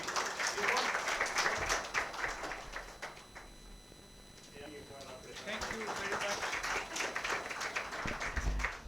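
An audience claps throughout with dense, steady applause that dips briefly in the middle and then swells again, mixed with faint voices.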